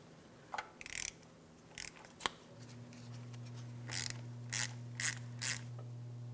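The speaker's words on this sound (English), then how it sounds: "we're going to be using a 22 millimeter to start removing the knock sensor" Ratcheting clicks from a 22 mm wrench loosening the knock sensor on a 3.8L V6 of a 2004-2008 Pontiac Grand Prix, in short bursts of close, sharp clicking over a faint steady hum.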